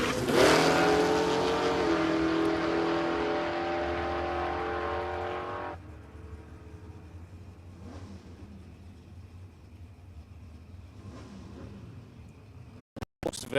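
A Chevy Nova muscle car roars at a no-prep drag race at Warwick Dragway in Australia, a loud, high engine scream that holds and fades away, followed by quieter distant engine rumble and crowd ambience.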